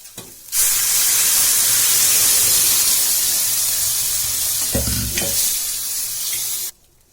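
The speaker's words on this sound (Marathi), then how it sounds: "आणि ती चांगली अशी मस्त हलवायची चारी बाजूनं खालून वर वरून खाली अशी छान हलवायची भाजी" Boiled fenugreek greens being stirred in a hot pan, a loud continuous sizzle that starts suddenly and holds steady, with a couple of heavier scraping stirs near the end before it cuts off.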